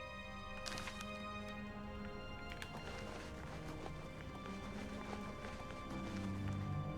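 Hooves clatter in a fast steady rhythm as an armored horse gallops in the video game Oblivion Remastered, with occasional sharp clanks over a dense rumbling background.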